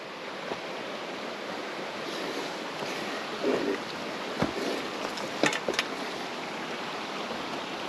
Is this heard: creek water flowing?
yes